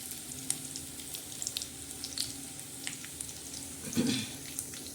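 Cumin, garlic and curry leaves sizzle in hot oil as a tempering for a spicy red-masala broad bean curry, a steady close crackling fry with small pops and one brief louder burst near the end.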